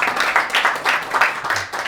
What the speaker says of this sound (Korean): 박수로 우리 재원 형제